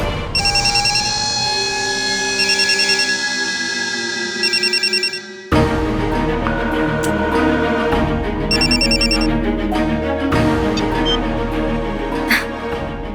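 A phone rings repeatedly in evenly spaced electronic bursts, first alone and then over busier background music, with no one picking up.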